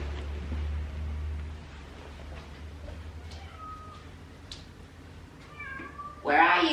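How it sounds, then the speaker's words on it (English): Faint short meows rise now and then over a low rumbling background, ending with a sudden louder rustle. "Is that a cat meow?"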